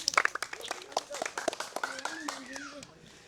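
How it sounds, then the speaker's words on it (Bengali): An audience claps for three young contestants in a chicken curry and rice food competition, a short run of crisp, scattered applause with someone speaking over it. "আমাদের এই তিনজন খুদে প্রতিযোগীর জন্য সবাই জোরে একটা করতালি সবাই"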